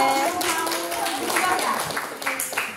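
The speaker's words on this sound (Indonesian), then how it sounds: "Tepuk tangan dong untuk Oke" A high school class claps hands together in a lively classroom, the clapping mixed with voices talking and calling out over it, close and moderately loud.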